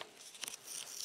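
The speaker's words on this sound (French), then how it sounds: "je découpe" Scissors cutting out paper words, a brief run of quiet close snips and paper rustle, alone without talk.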